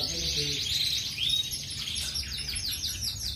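Male canaries chirp close by, a busy stream of bright tweets and quick trills that rolls on without pause over a low background hum.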